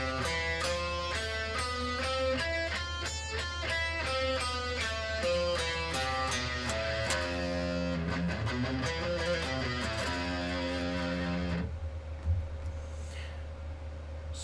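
Guitar plays a Japanese scale with a raised fourth, close to the Lydian mode, as a steady sequence of clean single notes climbing and then descending, fairly quiet over a low background hum.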